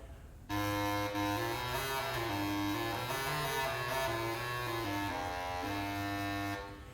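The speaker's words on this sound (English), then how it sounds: "And this is the bass crumhorn." A bass crumhorn, a buzzy, reedy low-pitched wind instrument, plays a slow melody alone, steady and fairly loud, with nasal tone throughout.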